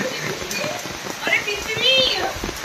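Heavy monsoon rain in Konkan patters steadily on surfaces nearby, a dense continuous hiss with a few louder splashes.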